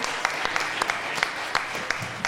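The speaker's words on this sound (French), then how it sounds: "Applaudissez-vous, s'il vous plaît." An audience at a live show at the Transistor applauds steadily, a dense patter of many hands clapping with a few sharper claps standing out.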